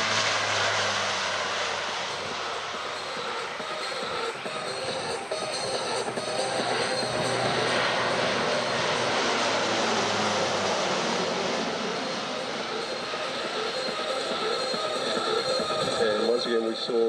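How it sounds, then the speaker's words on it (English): Two C-130 Hercules transport aircraft taking off on a short runway at the Avalon Airshow, a steady, loud propeller-engine roar that swells and holds under a commentator's voice. "we saw Dash 2, or the second aircraft there, getting airborne on a point of the runway back from where the first aircraft did"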